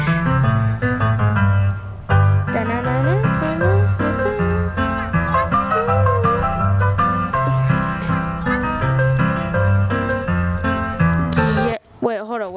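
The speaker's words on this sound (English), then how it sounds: "Not the ice cream truck music." Ice cream truck music, a bright looping chime melody, plays loud and continuous for about twelve seconds, then breaks into a brief warbling glitch near the end.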